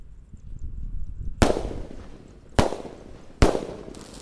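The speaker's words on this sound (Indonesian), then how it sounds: "menyalakan Roman Candle Bazooka peluru pelontar yang 2 tor dan 3 tor" Roman candle bazooka fireworks being fired, three sharp, loud booming shots at irregular intervals, each with a short crackling tail, heard close with faint background noise between them.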